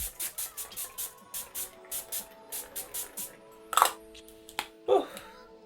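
A makeup setting spray bottle pumped in a quick series of short mist bursts, close and crisp, followed by a couple of louder handling noises.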